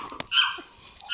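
A puppy gives quick, high yips and short barks mixed with whimpering tones, close to the microphone in a brief, busy burst.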